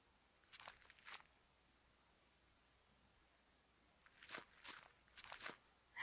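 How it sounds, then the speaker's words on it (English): Faint, quiet footsteps with soft scuffing and knocking as objects are kicked in the video game The Last Door, coming in two short clusters separated by a pause. "I'm kicking something. That's what it is."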